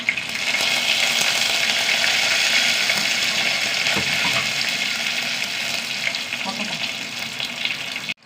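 Mustard seeds, dried red chillies and curry leaves sizzle loudly in hot oil, a bright, continuous crackling hiss with small pops, close and steady throughout.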